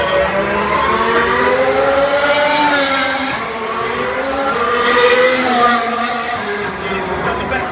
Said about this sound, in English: Kimi Raikkonen in the Ferrari as well